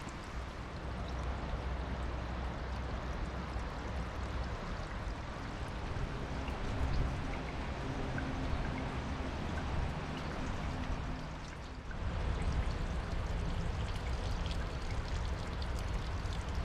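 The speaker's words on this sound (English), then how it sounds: "You can see all these little pools and stuff as this little trickle heads on down to the Tohickon." A small stream trickles over rocks and into little pools on its way down to the Tohickon at Ralph Stover State Park, a steady, close wash of running water that continues without a break.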